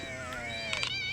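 Cat meowing in the video game Postal 2, a single drawn-out, wavering meow heard up close and fairly loud, with a brief clatter of game sounds near the end.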